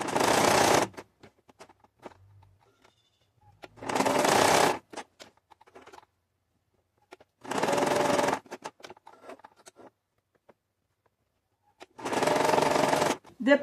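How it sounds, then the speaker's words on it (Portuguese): Sewing machine stitching seams on fabric scraps in bursts of roughly a second each, four runs of fast, even whirring separated by quiet pauses with small handling noises, close and moderately loud. "Vamos fazer uma costura desse lado e desse lado também."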